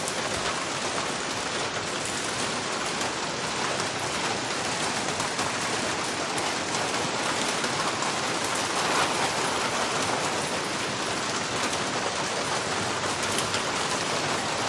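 A constant downpour roars nearby, thick and even, rain drumming on surfaces for the whole stretch without any talking.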